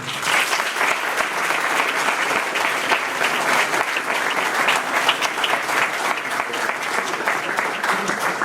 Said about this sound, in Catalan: un aplaudiment per ells i moltes gràcies